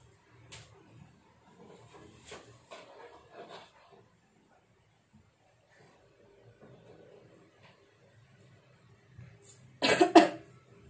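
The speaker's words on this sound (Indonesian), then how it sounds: "Agak batuk dikit." Scattered faint rustles and taps in a quiet room, then a sudden burst of loud, close coughing near the end.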